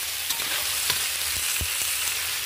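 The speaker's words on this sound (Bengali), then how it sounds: "দিয়ে এটাকে আমি ভালো করে ভেজে নেব।" Potatoes, onion and whole tomatoes frying in a pan, a dense continuous sizzle with a few soft stirring knocks, close and alone.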